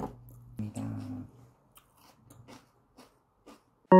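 Crunchy, watery raw paprika being bitten and chewed up close, with a few crisp bites near the start fading into softer, quieter chewing.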